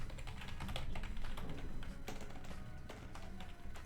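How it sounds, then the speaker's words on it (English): Rapid typing on a computer keyboard, dense clattering keystrokes in an uneven rhythm, close and fairly loud, heard alone. "if I can type"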